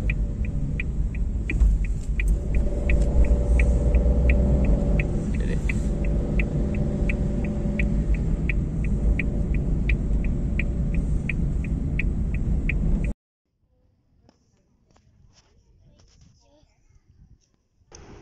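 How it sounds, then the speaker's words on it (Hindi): A car creeps slowly along a road in dense fog, its low engine rumble and hum steady and close inside the cabin along with a regular ticking, until it cuts to near silence. "इतनी कम स्पीड पे चलानी पड़ती है गाड़ी।"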